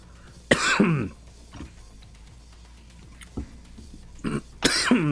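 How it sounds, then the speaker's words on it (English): A person coughs several times in short bursts, loud and close, with quiet gaps between the fits and no talking. "Excuse me, coughing."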